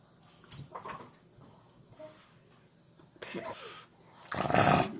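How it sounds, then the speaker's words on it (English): A dog breathes heavily and snorts close by, with wheezy, snoring-like huffs in irregular bursts that grow louder toward the end, and a person talks softly in between. "You're breathing heavy on me, baby. Breathing heavy on me."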